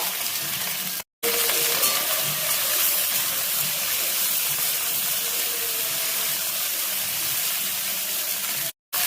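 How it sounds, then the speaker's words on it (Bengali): Okra fries in hot mustard oil in a pan, a loud, close, steady hissing sizzle running nearly unbroken, with two brief silent breaks; no talking is heard. "তেল গরম হয়ে গেছে, আমি ভেন্ডিগুলো দিয়ে দিলাম। ভেন্ডিটা একটু ভেজে নেব।"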